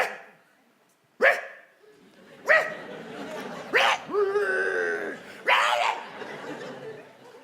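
A dog gives several loud, close barks spaced a second or so apart, some stretching into whiny, yelping howls, with a person's voice mixed in.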